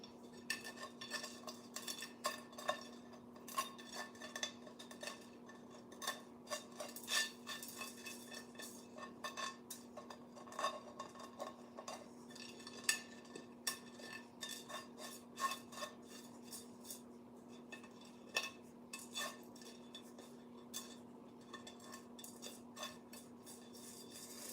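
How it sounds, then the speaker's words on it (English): Metal utensil scraping repeatedly across a pan, a steady run of short rasping strokes and light clinks over a constant low hum, close up with no voices. "Scraping the pan."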